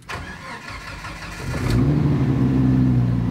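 A Jeep engine with about 120,000 miles cranks and catches, then settles into a steady, loud low rumble of running and idling close by, with no talk over it.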